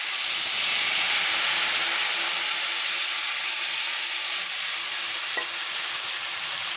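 Tamarind water poured into a hot pan, a loud sustained hiss and sizzle that fills the whole stretch evenly and close at hand.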